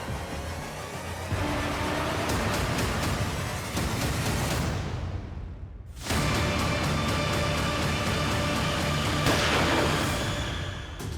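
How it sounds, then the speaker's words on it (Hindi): Several sharp gunshot-like reports ring out in a Crime Patrol crime drama scene at night, set near a vehicle on the road, over a steady rumbling engine and road noise with no talking. "ये गोली चलने की आवाज थी ना?"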